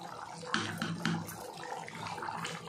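Water splashes and trickles onto chickpeas soaking in a bowl at home, with a few sharper pouring bursts among a faint, steady liquid wash.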